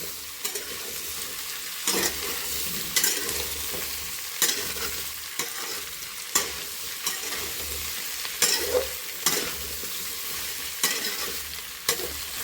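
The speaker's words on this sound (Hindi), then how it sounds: "प्याज भूनने के बाद जाएगा हमारा आलू, जो कि हमने कट करे हुए हैं" Peeled, cut potatoes half-frying in a pan after the onions, a soft continuous sizzle broken by regular scraping stirs every second or two, close and clear with no talking.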